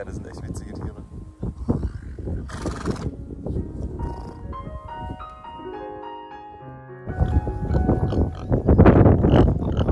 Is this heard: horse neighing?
yes